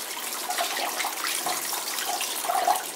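Water pours off tomato seed pulp into a sink or container, a steady splashing trickle lasting throughout, fairly close with no talking.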